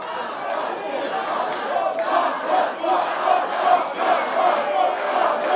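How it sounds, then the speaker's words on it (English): A Danish crowd at a Nordic Elite Wrestling show in Amager Bio roars and chants continuously, a dense, swelling wall of voices filling the hall at the start of a match. "Listen to this crowd, it is electric in here."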